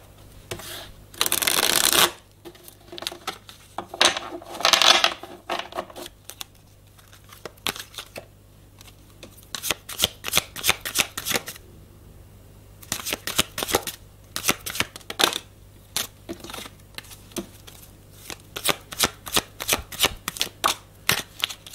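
Tarot cards are shuffled by hand for a card reading, producing bursts of crisp riffling and slapping card sounds. The bursts come close and fairly loud in irregular clusters, separated by short quiet gaps, with no talking.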